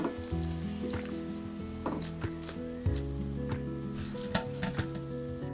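Gula Melaka keria, sweet potato doughnuts, fry in hot oil with a steady, close crackling sizzle, broken by occasional utensil knocks and stirring clatter, and there is no talk.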